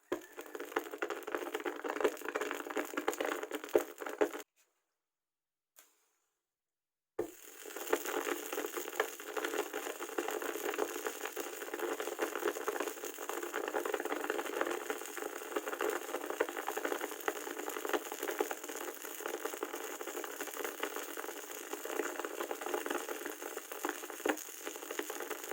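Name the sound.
calcium carbide stone bubbling in water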